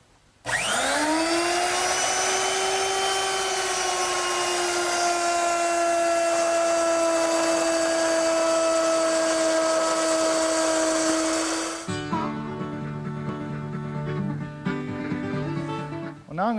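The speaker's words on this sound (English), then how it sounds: "Now plow all the grooves 3/8 of an inch deep." A router plows 3/8-inch-deep grooves into wooden shelves for a kitchen dresser, a loud steady high-pitched whine that holds for about eleven seconds, then cuts to a lower, rougher mechanical hum.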